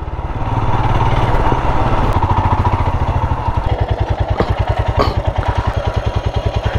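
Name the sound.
Royal Enfield Himalayan motorcycle engine running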